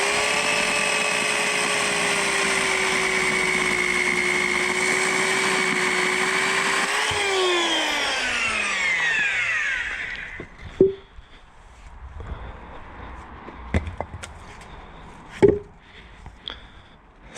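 A motor saw cutting firewood runs with a steady high whine for several seconds, then winds down, followed by scattered knocks and clatter of wood being handled, with no talk.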